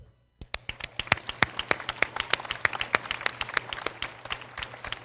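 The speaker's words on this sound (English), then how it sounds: "give them a round of applause" Commencement audience at a university spring graduation breaks into applause after a brief silence, individual sharp claps ringing out over a steady low hum, sparse at first and then a dense, lively patter of hands.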